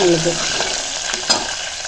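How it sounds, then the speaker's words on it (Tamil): Shallots sautéing over a low flame for a kara kuzhambu, a soft steady sizzle with a light stirring scrape, brief and close. "சின்ன வெங்காயம் நல்லா வதங்கணும் வதங்கட்டும் சிம்மில் வச்சு தான் வதக்கணும்"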